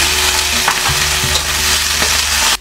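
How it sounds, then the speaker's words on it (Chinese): Beef stir-fried with aromatics in hot oil, a dense continuous sizzle with a few scraping stirs of the spatula, close and loud with no talk. "油热了，下这些辅料啊，炒出香味儿，把这牛肉再回锅炒一下。"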